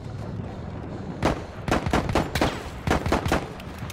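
Gunfire in the video game Battlefield 1, sharp bursts of shots and rapid cracks in clusters, moderately loud with a steady background rumble and no talk.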